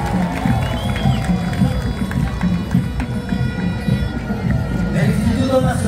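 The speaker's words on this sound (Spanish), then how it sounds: "brindando un fuerte aplauso al Instituto Nacional de San Bartolo" Outdoor crowd noise at a school parade where the peace band of Instituto Nacional de San Bartolo passes, with steady hubbub, scattered cheering and applause, and an announcer's voice over the throng.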